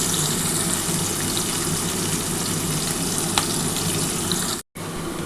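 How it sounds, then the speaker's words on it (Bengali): Onions frying in oil in a pan for a Bengali katla fish curry give a steady, close, continuous sizzle and crackle that runs unbroken apart from one brief dropout near the end, with no talking. "আমি পেঁয়াজটা কিন্তু ভেজে নিচ্ছি।"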